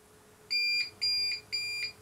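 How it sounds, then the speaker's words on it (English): An APC Smart UPS sounds a power-loss alarm in three short, evenly spaced electronic beeps. They are clear, high-pitched and fairly close over a faint steady hum. "You can hear the UPS beep there to warn us we've lost power."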